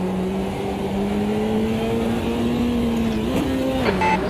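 A Volkswagen Passat race car in Automobilista 2 drones steadily at high revs, loud and close, with a brief pitch dip as it shifts near the end.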